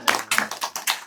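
Hand claps from an audience at a devotional evening talk, a quick run of about five distinct close claps in just over a second, crisp and evenly spaced.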